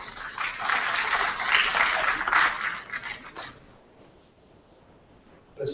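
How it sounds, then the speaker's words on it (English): A conference audience claps for a few seconds, a dense patter of applause that fades out into quiet room tone. "a big round of applause."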